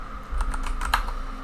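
Someone types on a computer keyboard in a quick, irregular burst of about half a dozen soft clicks, close up and alone.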